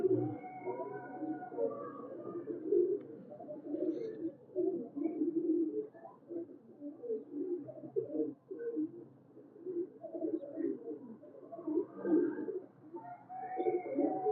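Pigeons coo softly nearby in repeated, overlapping throaty calls, with short pauses between phrases and no talking.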